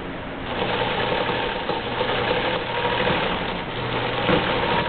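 A sewing machine runs steadily, stitching continuous bias binding with a close, rapid mechanical whir and chatter that hardly pauses for the whole stretch.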